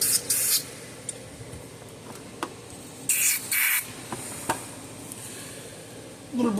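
Short bursts of aerosol lubricant sprayed onto a stuck bolt on a 30-year-old Speedrite electric fence charger during a repair, with several hissing squirts of varying length and quiet pauses in between.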